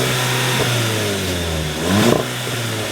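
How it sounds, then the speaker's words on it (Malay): A stock Volkswagen Golf GTI MK7 with factory twin exhaust idles with a steady hum, then gives one short rev that rises and falls before settling back to idle. "ni dengar bunyi exhaust dia ni."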